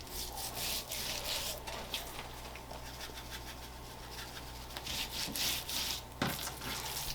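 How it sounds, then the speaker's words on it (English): Salt and pepper being rubbed by hand into a scored picanha roast, a continuous soft scratchy rubbing with rhythmic patting strokes, close and quiet, no speech. "a good salt and pepper is really good for these roasts. And rub that in there really well in between your score marks."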